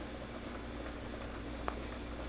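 A pan of breakfast food cooks slowly over low heat, giving a steady, quiet hiss and faint bubbling, with a single small tap partway through and no talking.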